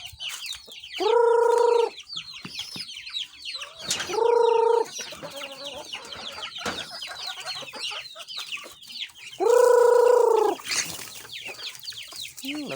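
Chicks and ducks in a backyard, with rapid high cheeping throughout and three loud, sustained honking calls standing out close by.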